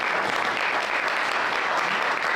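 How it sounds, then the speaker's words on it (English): Crowd applause for the Washington County Democrats at a Donkey Day political event in Abingdon, Virginia, a loud, steady, dense roar of many people clapping together with no break. "So please give them a round of applause for all the work that they have done on this time."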